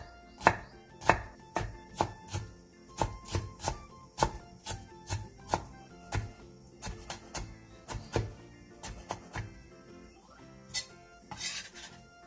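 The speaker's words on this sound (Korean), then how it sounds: "씻은 묵은지 한 줌을 잘게 다져주세요." Washed aged kimchi (mukeunji) being finely chopped with a knife on a cutting board, a run of sharp, fairly regular thuds close by, quiet between strikes, with no talking.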